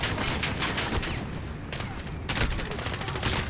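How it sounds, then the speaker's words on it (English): Dense, overlapping gunfire fills a Modern Warfare campaign firefight, bursts of rapid shots cracking close and loud in near-continuous volleys, with louder flurries near the start and again toward the end. "I just shot him in the back of the head"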